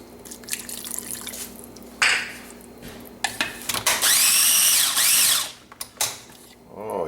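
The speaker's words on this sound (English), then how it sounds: "We're going to put 4 ounces of cold water." Cold water, about four ounces, pours into a pork adobo marinade, giving a steady close splashing rush with a few brief gushes and drips in between, alone without talk.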